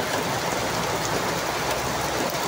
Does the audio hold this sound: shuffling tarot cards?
no